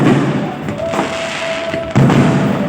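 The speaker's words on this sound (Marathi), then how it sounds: "हे बघा ओपनिंग चालू आहे. फटाके वाजतायत." Firecrackers pop and thud in the distance over a loud outdoor din at the opening of a sports ground, with a thin whistle rising briefly in the middle.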